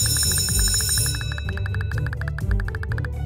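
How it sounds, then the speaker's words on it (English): A school recess bell in a video game rings out in a steady, rapid series of bright metallic dings, loud and continuous over a low background music bed, slowing slightly toward the end. "That's the recess bell."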